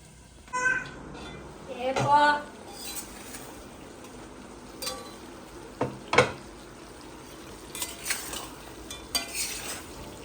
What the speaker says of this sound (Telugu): చికెన్ వేసానండి మొత్తం కలబెట్టేసి